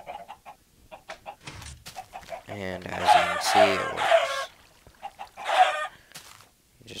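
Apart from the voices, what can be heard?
chickens clucking on a farm in a video game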